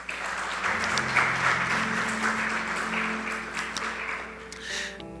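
Congregation at a Spanish-language church service applauding in praise, a dense sustained clapping over faint held organ or keyboard tones, fairly loud and continuous throughout.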